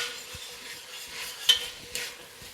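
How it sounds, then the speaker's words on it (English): Two tablespoons of minced garlic stirred in a hot pan, with a faint sizzle and soft scraping strokes and a couple of light utensil knocks, quiet and close. "add now 2 tablespoons of minced garlic and stir that in"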